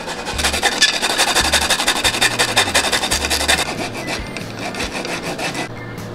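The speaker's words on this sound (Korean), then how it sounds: "여기에 트러플을 갈아 넣어서 정말 말 그대로 트러플 마요네즈를" Truffle rasped steadily against a grater over mayonnaise, a dense, continuous scraping with fast repeated strokes that stays close and loud before easing slightly near the end, with no talking.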